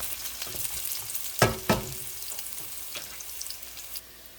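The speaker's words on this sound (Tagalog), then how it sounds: "Unahin kong iprito yung dried na alamang." Dried tiny shrimp, alamang, fry in a pan for pinakbet, giving a close, steady crackling sizzle marked by two sharp bursts as a utensil stirs them, then easing off to a lower hiss with no talk.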